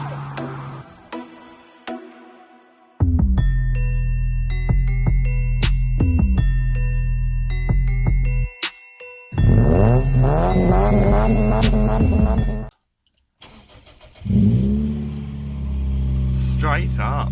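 A Toyota Yaris engine cranks and catches after a silent pause, settles into a steady idle, then revs up and down in rising and falling sweeps before cutting off briefly and running again, loud and close.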